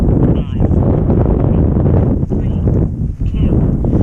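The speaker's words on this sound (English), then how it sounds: "it's very windy. You can hear it going" Strong wind buffets and roars across the microphone throughout a windy FPV drone flight outdoors, loud and continuous, with brief dips and gusts.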